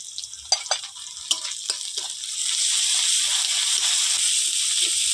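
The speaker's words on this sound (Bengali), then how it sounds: "এবার দেবো আদা রসুন একসঙ্গে বাটা" Ginger-garlic paste hits hot oil already holding fried chopped onion, bay leaf and whole cumin; a few sharp spatula clicks come first, then a loud, steady sizzle swells and holds close by.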